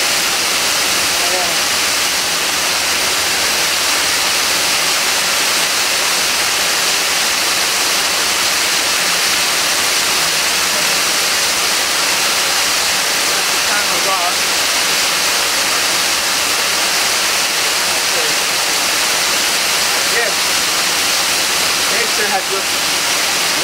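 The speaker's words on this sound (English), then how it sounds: "I extend myself a little further towards the waterfall." Loud, steady roar of a waterfall fills the whole stretch as broadband rushing noise, constant and close, with no talk over it.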